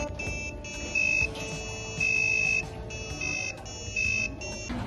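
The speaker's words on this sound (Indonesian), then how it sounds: "berikut hasil pengerjaan buzzer" A small electronic buzzer on a parking-card tap project sounds a repeating sequence of shrill beeping tones, each held briefly with short pauses between, steady and fairly loud.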